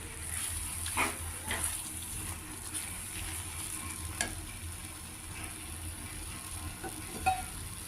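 A gram flour and water batter goes into a simmering spring onion curry in a pan, giving a steady close sizzle and bubbling hiss with a few soft stirring knocks and splashes throughout, and no voices.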